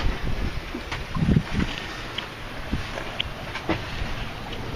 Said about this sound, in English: We're sailing downwind and having a good time with it.